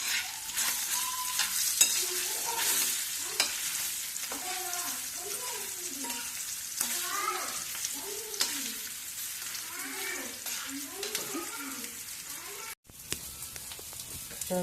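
Bitter gourd spice mix fries and sizzles steadily in a pan while a utensil stirs it in repeated scraping strokes, close and fairly loud, with a melodic background underneath.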